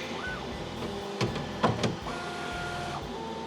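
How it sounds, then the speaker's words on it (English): A Bambu Lab P1S 3D printer cleans its print head, with whining stepper motors rising and falling in pitch, a few quick rattling knocks in the middle, and steady mechanical hum throughout. "So at the moment he is cleaning his print head."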